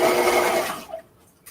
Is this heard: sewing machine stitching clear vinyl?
yes